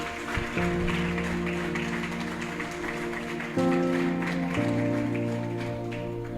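Church congregation at a morning service applauds steadily throughout, a soft continuous patter of clapping beneath sustained organ or keyboard chords that shift pitch twice.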